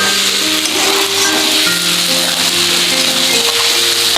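Soybean chunks and potato sauté in a pan with a loud, dense, unbroken sizzle close to the mic, no voices, holding steady throughout.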